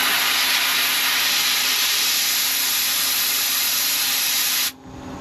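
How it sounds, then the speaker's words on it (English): Homemade sandblaster set in an IBC tote bottom blasts rust off classic VW Beetle IRS suspension parts, a loud continuous broadband hiss that runs steadily for several seconds, then cuts off abruptly near the end. "I've made my own little sandblaster"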